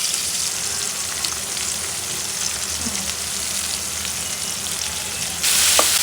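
Chopped onion, garlic and dried chilli sizzling in hot oil, a steady fine crackle throughout that jumps louder near the end as more goes into the pan.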